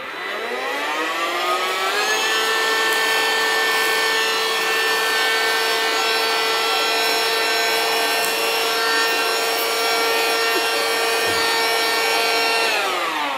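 A Xiaomi handheld vacuum cleaner with an extension nozzle fitted whines loudly and continuously, its pitch rising as the motor spins up in the first seconds, then holding a steady high hum before dropping slightly at the end.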